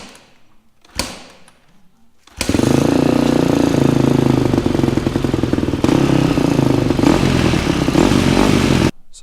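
A motorcycle engine cranks briefly, stops, then fires up and runs steadily and loudly at close range for several seconds before cutting off, with no one talking over it.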